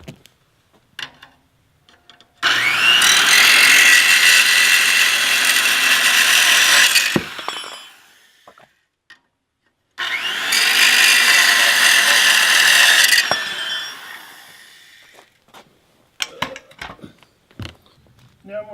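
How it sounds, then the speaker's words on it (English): A circular saw fitted with a metal-cutting blade slices through steel rebar in two loud, sustained bursts of about five and three seconds, separated by a pause, with faint clinks and handling noises around the cuts. "I'm going to cut mine with a skill saw with a metal blade in it."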